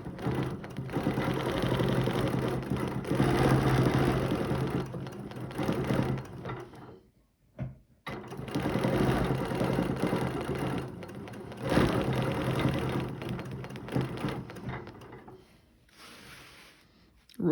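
A sewing machine stitches a row of a quilt in steady, fast runs, with two brief pauses where the stitching stops before it starts again.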